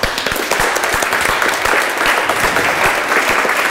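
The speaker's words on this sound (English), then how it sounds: "Give yourselves a clap." A workshop audience claps together in sustained applause, dense and loud, at a personal growth session.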